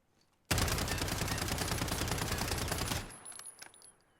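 Sustained automatic fire from a Striker .45 (UMP 45) submachine gun in a video game, a loud rapid burst of about two and a half seconds, then a brief echoing tail.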